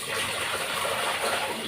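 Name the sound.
water poured over fish while washing it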